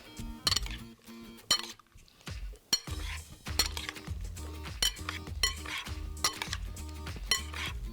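A dish of rice with cucumber, apple pear and a third of a teaspoon of dried chili flakes is tossed with utensils in a bowl, giving repeated close clinks and scrapes of metal on dishware in an uneven rhythm.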